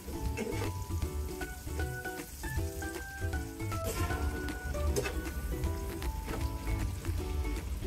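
Two medium chopped onions with salt sizzle and crackle in a hot pan, a steady close frying hiss with scattered pops, while faint tonal background music plays underneath.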